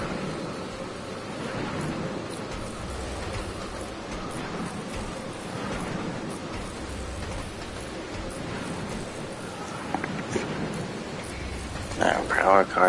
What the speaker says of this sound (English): So rainy, so heavy.